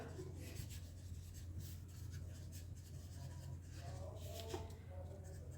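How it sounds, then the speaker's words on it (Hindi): Pen scratching on paper during a math exercise, with steady soft strokes running throughout and quiet room tone underneath. "तो मैं यहाँ पे लिख लेती हूँ"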